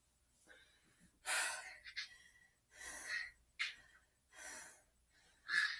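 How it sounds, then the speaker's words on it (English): Heavy, effortful breathing after an EMOM and AMRAP workout: five or six loud, ragged breaths, close to the microphone, each followed by a short pause, with no words spoken. "I'm breathing so heavy."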